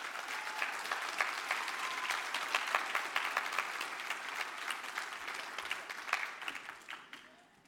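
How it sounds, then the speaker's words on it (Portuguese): Church congregation at a Brazilian service applauding steadily, a dense roomful of clapping hands that holds for several seconds before tapering off at the end. "Pastor Danny de Armas, eu queria que nós o recebêssemos com uma salva de palmas agora."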